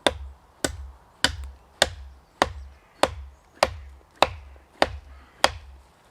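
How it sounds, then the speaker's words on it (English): A Condor heavy duty kukri chops into a tree trunk with ten sharp, evenly spaced strikes, each a crisp, loud woody thwack with a short dull decay, close by and without talk. "chopping down trees aren't easy anyway with a hand tool"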